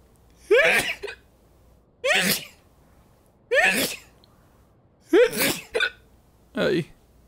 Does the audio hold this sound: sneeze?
yes